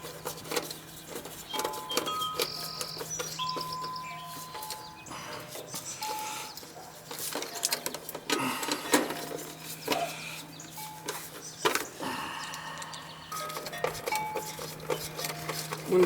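Wind chimes ring outdoors beside an AC condensing unit, scattered metallic tones sounding irregularly and faintly over a steady low hum for about sixteen seconds.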